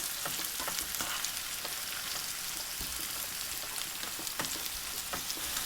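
Four sliced tomatoes sauté in a pan with a constant loud hiss of frying, broken by occasional sharper crackles and spatters, close and alone with no voices.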